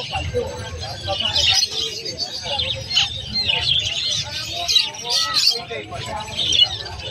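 Finches at a bird seller's stall chirp and tweet in a busy, continuous chatter, close and fairly loud, while people talk throughout.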